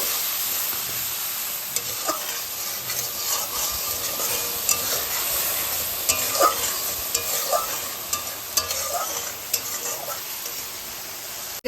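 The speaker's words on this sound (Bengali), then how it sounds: "এটা ভালো করে নাড়িয়ে নিয়ে ভালো করে একটু কষিয়ে নেব" Ground spices with cumin and Kashmiri chili powder frying in oil in a pan, a steady loud hiss with scattered light spatula taps and scrapes, close and continuous, no voices.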